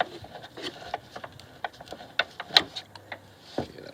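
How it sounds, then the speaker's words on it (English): An upper bolt being removed from the front control arm of a Mercedes SLK R170, a string of small metallic clicks and ratcheting ticks at close range, irregular and fairly soft. "I'm just finishing taking this upper bolt out."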